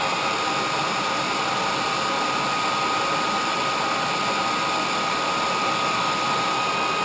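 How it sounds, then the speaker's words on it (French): A hair dryer blows onto paint on a jerkbait fishing lure in a steady, loud, unbroken whoosh with a faint high whine, running continuously from start to finish. "je vais l'amplifier en mettant le sèche-cheveux dessus"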